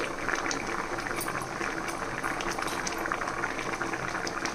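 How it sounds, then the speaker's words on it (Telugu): Nellore-style fish curry with mango pieces simmering in a pot on a medium flame, a steady close bubbling and hissing boil that continues evenly throughout with no talk. "ఇప్పుడు మీడియం ఫ్లేమ్ మీద నిదానంగా ఉడికించాలన్నమాట"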